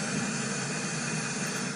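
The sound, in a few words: white noise test signal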